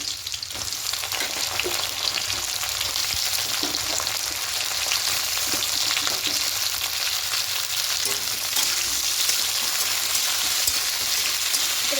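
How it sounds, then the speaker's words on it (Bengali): Chopped flat beans fry in hot oil in a pan with a loud, steady sizzle that runs the whole time, broken by occasional light stirring scrapes. "এবার যে কেটে রাখা সিমগুলো আছে সিমগুলো দিয়ে দেবো"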